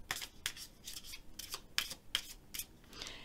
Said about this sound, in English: So let me shuffle these up again.